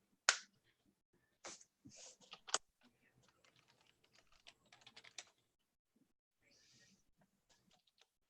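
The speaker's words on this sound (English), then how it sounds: "I'm still typing." Keys clatter on a computer keyboard in a quiet studio, sharp close clicks coming in uneven bursts and short runs, with pauses between.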